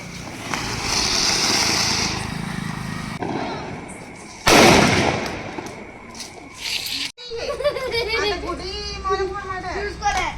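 Firecrackers burst during Diwali celebrations, a sharp loud blast standing out amid crackling and fizzing, while children shout and chatter nearby and voices take over toward the end.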